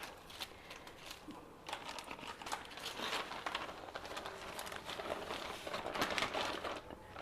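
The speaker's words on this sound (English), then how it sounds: "Take a large good quality Ziploc cover" Thin plastic of a large Ziploc bag crinkling and rustling continuously as folded methi theplas are packed into it, soft close-up crackles growing a little busier over several seconds, no talking.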